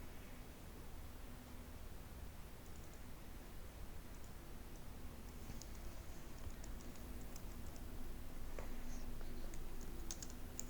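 Text being typed on a computer keyboard, with quiet, rapid, irregular key taps over a steady hiss and a few slightly louder clicks toward the end.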